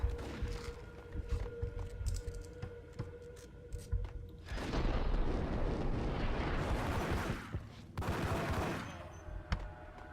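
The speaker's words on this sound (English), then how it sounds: "that's a really dramatic, more dramatic explosion than I anticipated" Loud explosion in the Max Payne shooter game, a sustained roaring burst with rumbling debris that swells, dips, then flares again, layered over ongoing gunfire-like crackle.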